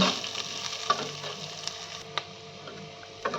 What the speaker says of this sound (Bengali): হালকা লাল করে পেঁয়াজগুলোকে ভালোভাবে ভেজে নেব।